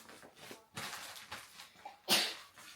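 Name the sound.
sneeze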